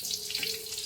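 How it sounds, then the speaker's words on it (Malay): Young jackfruit frying in hot oil in a wok gives a close, steady hissing sizzle with small crackling fluctuations across the brief moment. "Jadi kita dah panaskan kuali dan minyak ya. Kita gorenglah nangka ni"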